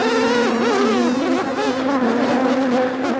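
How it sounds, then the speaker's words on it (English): A swarm of honeybees in a garden cart buzzes agitatedly, a dense, loud, close drone of many wings that wavers constantly in pitch without a break. "the bees are going crazy"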